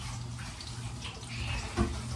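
Running tap water splashes steadily while something is washed in a home kitchen, a continuous broadband hiss with one brief louder splash near the end.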